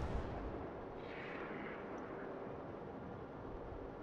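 A deep, rumbling boom of battleship guns firing in the naval combat game World of Warships, with the Japanese battleship Fuso, heard as a sustained low roar and a faint whoosh but no talking.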